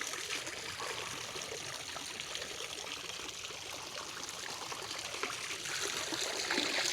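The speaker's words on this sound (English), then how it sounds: "This pond could use a fountain." Water trickles steadily at a garden pond, giving a soft, continuous splashing hiss that stays fairly quiet and even throughout.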